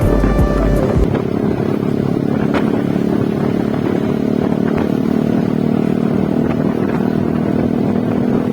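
A motorcycle rides along steadily, its engine droning continuously at close range with a low, even rumble, road clatter and occasional knocks over about eight seconds, and no one speaking.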